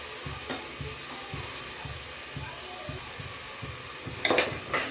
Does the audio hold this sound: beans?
yes